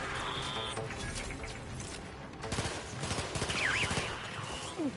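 Dense gunfire and mechanical clatter in the video game Outer Worlds 2, a busy combat mix of rapid shots and whirring effects running continuously throughout.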